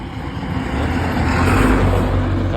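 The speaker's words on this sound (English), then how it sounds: "I'm just waiting for the cars to pass by" Cars pass by on a road near a construction site, a steady loud engine and tire roar that swells in the middle and stays close throughout, with no talking.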